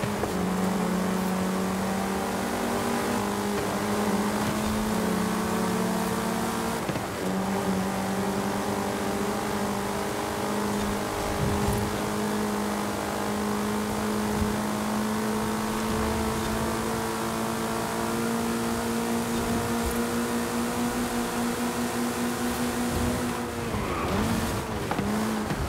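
A rally all-wheel drive car engine in the racing game Forza Horizon 5 drones loud and continuous, holding a steady high pitch with brief dips and revs between gear changes.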